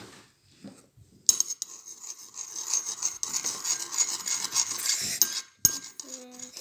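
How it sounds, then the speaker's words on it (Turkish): Shampoo and salt mixture being stirred for homemade glue-free, borax-free slime, a steady scraping and clinking of a utensil against a bowl for several seconds, close and fairly loud, with brief pauses and no talking. "E, şampuandan birazcık dökeyim. karıştırayım."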